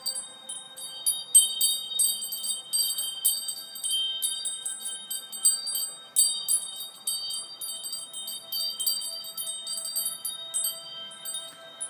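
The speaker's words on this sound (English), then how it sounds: "I have my chimes back again from Scotland to help you get into a more calmer and peaceful trance" Wind chimes brought back from Scotland ring steadily for about twelve seconds, their bright metallic tones overlapping in an irregular shimmer over a faint, sustained background tone.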